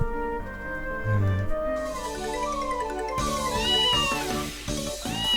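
A cat from the visual novel Princess Evangile meows repeatedly, drawn-out wavering cries close up and alone, rising and falling in pitch over several seconds.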